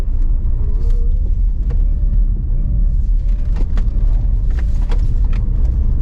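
A 2022 Toyota bZ4X electric crossover weighing 1.9 tonnes is driven fast on a circuit, heard as a continuous loud low rumble of road and tyre noise from inside the cabin, with faint squeaks and taps over it.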